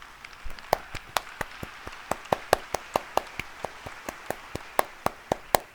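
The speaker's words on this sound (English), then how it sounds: "let's give it a round of applause to all the amazing things that you have done" Evenly spaced, crisp claps ring out one at a time from an audience at the Roblox Developers Conference, fairly close and steady in rhythm, with no talk over them.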